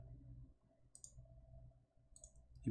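Rapid mouse clicking while playing Total War: Warhammer 2: faint, quick clicks over a quiet low hum, ending in a louder thump.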